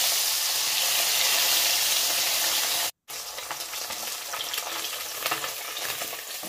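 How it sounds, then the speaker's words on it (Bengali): Pabda fish coated in mustard oil fry in a pan with a steady, dense crackling sizzle that cuts out for a split second midway, then resumes just as loud and continuous. "এই মাছ ভাজতে বেশি সময় লাগে না, তাই আমি পরপর পরপর মাছগুলো ভেজে নিচ্ছি"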